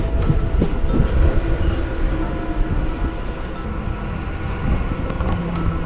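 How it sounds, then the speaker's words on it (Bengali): A passenger train pulling into Shaktigarh station near Bardhaman, heard from on board as a loud, continuous rumble with rattling wagons and buffeting wind noise. "আর আমাদের ট্রেন এখন শক্তিগড় স্টেশনে সবে এন্ট্রি করছে।"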